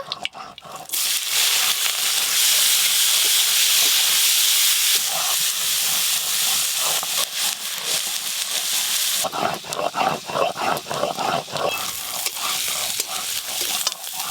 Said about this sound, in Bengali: গেটে চিংড়িগুলো একবারে সব ভেজে নেব।